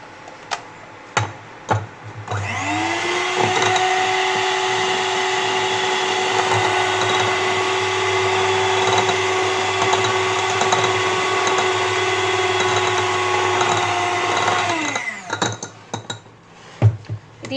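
A kitchen blender whirs up to a steady, high motor drone while mixing foaming face wash ingredients with surfactant, runs evenly for about twelve seconds, then winds down, with faint clicks before and after.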